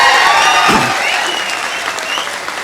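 An audience at a public meeting breaks into loud, dense applause that stays close and full, then tapers slightly toward the end.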